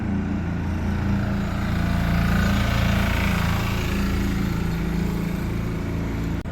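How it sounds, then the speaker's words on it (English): A gritter truck rumbles through a car park, a loud, steady, close engine drone with a rattling mechanical hum that holds level throughout. "Oh, it's a gritter."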